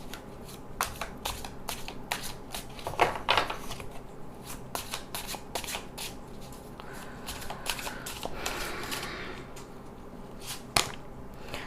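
Tarot cards being shuffled by hand: a quick series of crisp riffling flicks and soft slaps, close and fairly quiet, with a few brief pauses and one sharper snap near the end, no voices.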